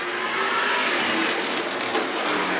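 Race trucks at Nashville practice roar past close and loud as they hit a jump, engines revving hard with a steady, dense rumble and brief tire noise, no voices.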